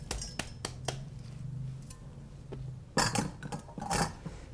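Soaked, drained rice is tipped from a perforated strainer into a pot in a home kitchen, with scattered light clinks and knocks of cookware and a soft patter of grains, louder clattering bursts near the end.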